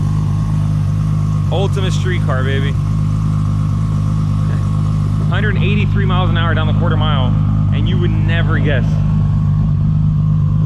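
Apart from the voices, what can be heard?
Toyota Supra drag car engine with full exhaust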